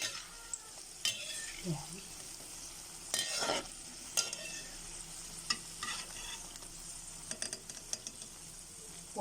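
String beans (sitaw) cook in a pan with a faint sizzle, broken by scattered clinks and scrapes of stirring and a brief voice.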